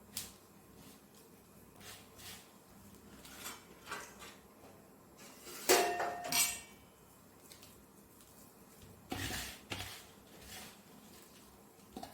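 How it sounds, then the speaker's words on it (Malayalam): Quiet, intermittent clinks and scrapes of a utensil mixing a wheat flour, banana and baking soda batter in a bowl, with a couple of louder knocks against the rim. "ഇനി നല്ലപോലെ ഒന്ന് മിക്സ് ചെയ്യുക"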